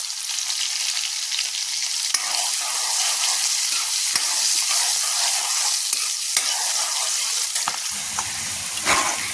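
Chopped onion, two green chilies and turmeric powder fry in hot oil in a pan, with a loud, steady close sizzle and a few scraping stirs. No one speaks.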